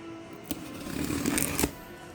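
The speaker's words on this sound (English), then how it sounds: "Little package opening ASMR with a single hand here" Quiet cardboard rustles and scrapes as a small package box is opened with one hand, a few soft taps and a brief crinkling flurry, close and gentle, with no talking.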